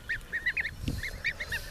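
A flock of about 40 geese honks in a rapid, uneven series of nasal calls, moderately close, with a brief low thump partway through.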